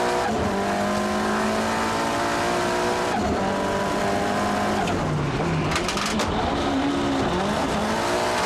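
A drift car at a D1GP competition slides through a corner, its engine holding a loud, sustained high-revving drone with tire squeal rising and falling as the line is adjusted, steady and close throughout.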